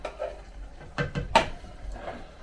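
A utensil scrapes canned crushed tomatoes out of a metal can for a quick Bolognese, several short, close scraping and clanking strokes in quick succession against a quiet background.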